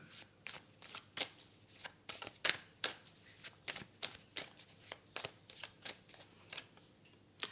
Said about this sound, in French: On va recouvrir ce 9 d'épée et ce 8 de coupe.